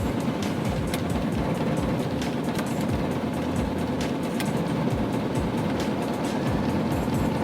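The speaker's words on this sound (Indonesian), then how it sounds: "Nah, kita langsung cobain nyalain AC-nya ya teman-teman." Air conditioning running inside a 1991 Daihatsu Charade CX 1.3, a steady whooshing fan blow over a low engine idle rumble that holds constant throughout, fairly close and unbroken.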